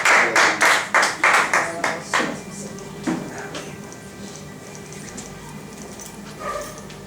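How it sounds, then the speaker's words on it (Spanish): A church congregation in Lima claps together in a loud burst of rhythmic applause that fades after a couple of seconds into scattered claps and quiet room noise. "Den un aplauso al Señor."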